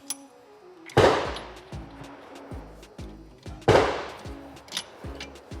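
Two heavy gunshot blasts ring out a few seconds apart, each followed by a long rumbling echo, with softer thuds and clanks between them.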